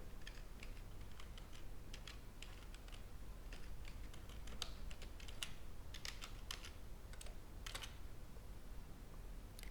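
A password is typed on a computer keyboard as quiet, irregular bursts of light key clicks with short pauses between runs.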